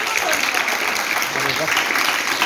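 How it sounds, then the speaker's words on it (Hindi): Audience applause at a school role-model event in Sector 9, Ambala, a dense steady clatter of many hands filling the short stretch with some voices mixed in. "एक बार जोरदार तालियां बजा दें"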